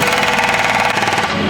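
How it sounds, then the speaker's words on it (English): Bobcat skid steer with a jackhammer attachment breaking up concrete, a loud, steady hammering rattle mixed with engine noise, close and continuous with no pauses. "We rented a Bobcat with the jackhammer attachment"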